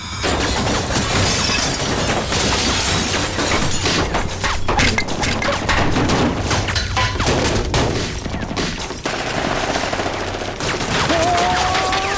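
A dense, sustained volley of gunfire in a dubbed action film, rapid overlapping shots fired overhead cracking loudly and continuously, with occasional sharper bursts standing out.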